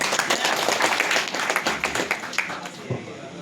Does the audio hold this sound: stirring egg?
no